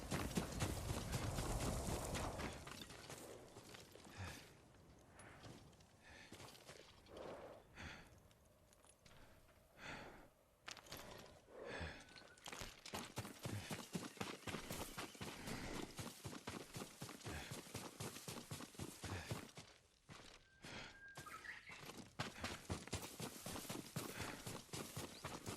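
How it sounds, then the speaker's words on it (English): Horse hooves clip-clopping in the video game Ghost of Tsushima, a rapid steady run of close hoofbeats lasting throughout, with a brief heavier burst at the start. "Yuriko's horse. She can't be far."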